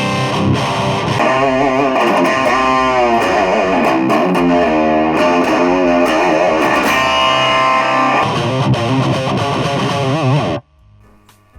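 A Dime guitar through an amp's built-in distortion with no pedals engaged, heavily distorted chords and riffs ringing out loud and saturated for about ten seconds, then cutting off abruptly to near silence.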